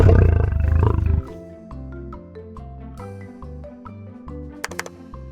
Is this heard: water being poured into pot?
no